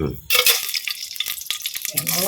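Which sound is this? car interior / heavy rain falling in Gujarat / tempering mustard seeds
tempering mustard seeds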